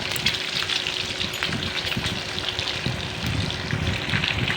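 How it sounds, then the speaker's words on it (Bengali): Eggs coated in salt and turmeric fry in a kadai, giving a steady, dense crackling sizzle that holds at an even level throughout with no talk. "এক একটা করে ডিম আমি কড়াইয়ের মধ্যে অ্যাড করে দিলাম এবার ডিমগুলোকে ভালো করে ফ্রাই করে নেব"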